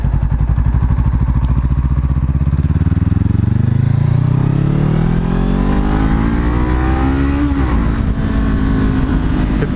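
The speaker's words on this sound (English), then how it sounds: "Buy a good slip-on exhaust if you're not going to get a full system." Honda CBR500R motorcycle fitted with a slip-on exhaust revving up loud and close, the engine note climbing steadily and then dropping back, while a voice talks over it.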